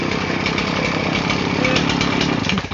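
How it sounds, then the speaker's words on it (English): A chainsaw idles while warming up before firewood cutting among dead trees, its two-stroke engine putting out a steady, buzzing rattle close by and fairly loud, with a slight rise in pitch near the end. "right now I'm just warming up my chainsaw"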